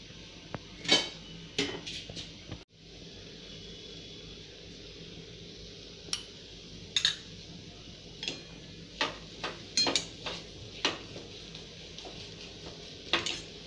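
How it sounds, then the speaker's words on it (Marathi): Masala of finely chopped tomato sautéed in oil in a pan: quiet, sparse clinks and scrapes of a spoon against the pan in irregular bursts over a faint background, with no talking. "याला चांगलं तेल सुटेपर्यंत परतवून घ्यायचं"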